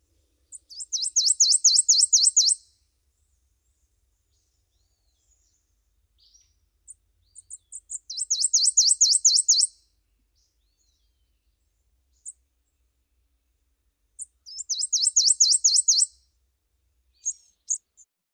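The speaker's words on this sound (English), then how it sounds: "listen for the sweet, sweet, sweet, sweet, sweet note of the prothonotary warbler" Three bursts of a prothonotary warbler's high, ringing song, each a quick series of repeated sweet notes, separated by long silences with a few faint chips between.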